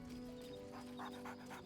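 A dog panting in the video game Baldur's Gate 3, several quick breathy puffs in a row over a soft tonal game backdrop, fairly faint and close.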